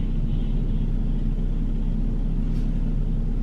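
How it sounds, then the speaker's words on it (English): Low, steady rumble of a car engine running close by, a continuous droning hum with no talking over it. "what is that noise? Oh, it's that car back there."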